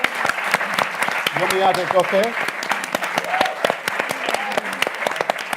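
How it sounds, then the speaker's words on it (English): An audience at an entrepreneurs' Q&A event claps steadily for several seconds, with dense, close applause running under a speaker's voice. "Round of applause."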